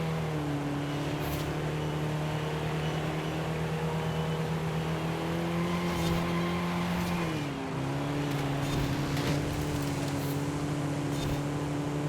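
Engine of a car in a racing video game, a steady droning tone that holds for most of the stretch, dips briefly as if shifting gear, then carries on, loud and continuous with no talk over it.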